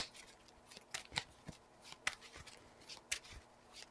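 Cards from a Marvel Champions deck being shuffled by hand, a series of crisp riffling bursts and snaps spread unevenly over a few seconds, close and clear with no talking.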